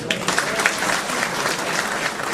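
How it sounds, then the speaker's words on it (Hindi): Audience clapping at a naat contest in Holland, a dense and steady round of applause from a crowd that holds for the whole stretch. "कि तालियां बजाएं।"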